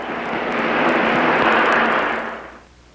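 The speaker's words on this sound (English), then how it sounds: "There goes the plane, airborne now at the half mile" A fixed-wing propeller airplane takes off on a 1962 drag-race comparison run against a Chevrolet Impala, its engine roar swelling to a loud peak and then fading away, with no talking.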